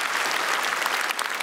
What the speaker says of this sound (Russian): Давай, давай, под аплодисменты.